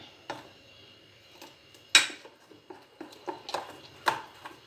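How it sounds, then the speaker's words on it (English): A spoon clinks and scrapes against a bowl as eggless cake batter with hot chocolate powder is stirred, making irregular, sharp, close-up taps and scrapes with quiet gaps between them. "Keep giving it a good mix"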